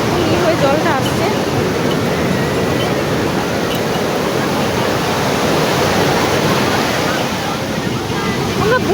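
Sea waves wash up continuously onto a beach in Odisha at night, a loud, broad rushing surf with wind buffeting the microphone and no distinct breaks between swells.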